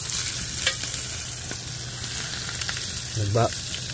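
Shrimp frying in a pan give a steady soft sizzle with a few brief stirring clatters, faint and alone at home-cooking distance.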